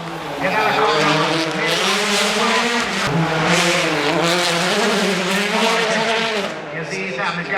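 A Hyundai i20 rally car accelerates hard at a Helsinki rally event, its engine howling and rising in pitch through the gears, loud and close, with tires squealing and a commentator talking over it.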